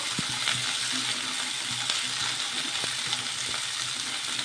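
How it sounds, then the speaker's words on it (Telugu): Cluster beans fry in hot oil in a kitchen pan, with a steady broad sizzle and frequent small scraping knocks from stirring throughout. "ఈ ఆయిల్లో కొద్దిసేపు ఫ్రై చేసేసుకోవాలి."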